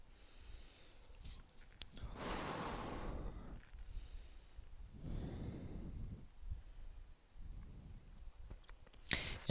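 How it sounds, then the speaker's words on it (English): Slow, deep breaths during a yoga hold, several long airy inhales and exhales in a steady rhythm, close and fairly quiet with a soft rustle near the end. "Let's get 4 more deep breaths."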